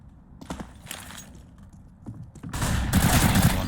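Pistol fire in a Counter-Strike professional league match, including a CZ: a few scattered shots, then a loud, dense burst of rapid gunfire that fills the last second.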